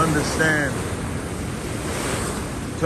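Ocean waves wash and flow steadily near the shore, a broad continuous rush with wind buffeting the microphone and a faint voice briefly at the start.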